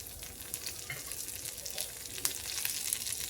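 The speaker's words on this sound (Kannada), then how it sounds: "ಇದು ಎಣ್ಣೆಯಲ್ಲಿ ಒಂದು ಸ್ವಲ್ಪ ಫ್ರೈ ಆಗಲಿ ಕಡಲೆಬೇಳೆ." Chana dal frying in hot oil in a pan, a continuous crackling sizzle with small sharp pops and a few light stirring scrapes, fairly quiet and without voices.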